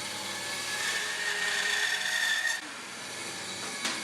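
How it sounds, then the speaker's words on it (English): A bandsaw cutting a guitar heel shape from a wooden block gives a loud, steady high-pitched whine with hiss, running continuously before dropping as the cut ends, close and alone. "so now we can cut the shape on the bandsaw"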